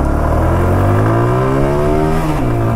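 A TVS Apache RTR 160 2V BS3 motorcycle pulls away in first gear, its engine loud and close, the pitch climbing steadily as it revs up, with a brief dip near the end.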